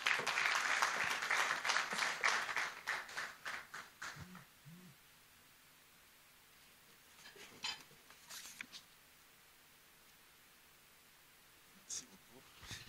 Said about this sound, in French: Cela s'accompagne des applaudissements des uns et des autres